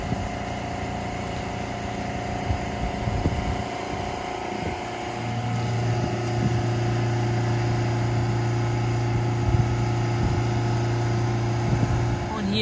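A Vauxhall diesel engine is held at raised revs during a DPF regeneration, a steady, close drone with a sustained hum that settles into a constant note partway through, with scattered faint knocks over it.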